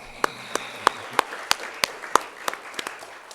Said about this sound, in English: Round of applause for Arbor Day.